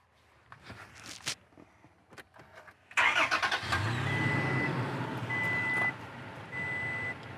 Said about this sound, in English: I'm gonna go crank up the truck so I can run the blinkers